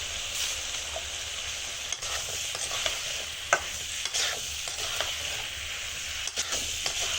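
A spoon scrapes and clatters around a pan of fish curry, irregular stirring knocks and scrapes over a soft, steady sizzle, close and moderately loud.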